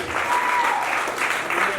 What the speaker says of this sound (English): I want to give a special appreciation applause to the venue for having us here